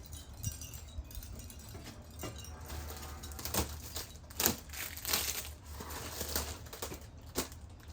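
A tail rudder for a Pilot RC 89-inch Slick model plane is cut free from its plastic packaging. Close, crinkly rustling and crunching come with scattered sharp snaps and a few louder crackles, and no one speaks.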